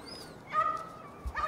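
A dog whimpers and yips in short, moderately close bursts, a thin whining tone followed by a couple of sharper yelps, with no talk over it.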